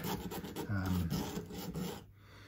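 A blade scrapes back wiring inside an Epiphone Les Paul Standard during a rewire, a close, steady rasping rub that runs for about two seconds and then stops.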